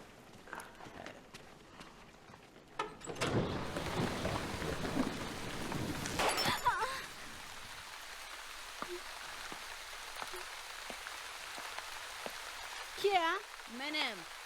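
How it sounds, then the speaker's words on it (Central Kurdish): Heavy rain hisses and patters, rising to a dense downpour in the middle before easing to scattered drips, with brief voices and a few knocks near the end. "باران باریوە دیسان خراپ بووە"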